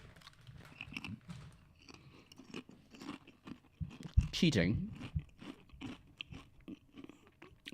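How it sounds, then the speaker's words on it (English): Someone eats something crunchy close to the microphone, with a few crisp bites and a loud crunching burst midway, interspersed with speech. "If that crunch is too loud, please tell me."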